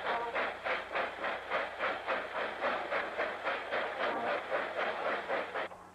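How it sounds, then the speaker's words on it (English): Santa Fe 3759 steam locomotive leaving Barstow chugs along with steady, rhythmic chuffs about twice a second, loud and close, over a continuous rumble of moving rail cars. "We are the last revenue steam train to leave Barstow."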